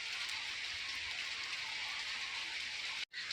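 Steady rain falls in a village, a dense even hiss that runs without a break at moderate volume and cuts out abruptly near the end, with no voices.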